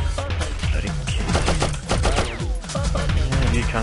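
Rapid bursts of gunfire in the Oddworld Abe's Exoddus video game, repeated sharp shots in quick volleys throughout, loud and close, with game ambience layered underneath.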